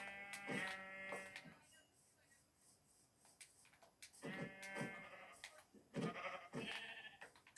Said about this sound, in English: And two sheep.